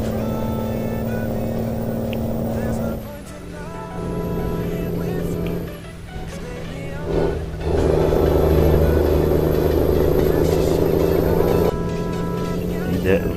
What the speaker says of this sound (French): tester le camion un peu sur la route, voir ce qu'il vaut